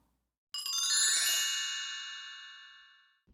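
Notification bell sound effect: a single bright, clean ding that rings out and slowly decays over about three seconds after a moment of silence.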